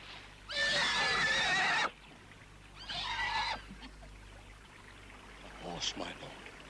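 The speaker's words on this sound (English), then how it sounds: "A horse, my lord." A horse neighs out on a misty bog, a loud shrill whinny followed by a second, shorter one, then a faint snort, over a low steady background hum.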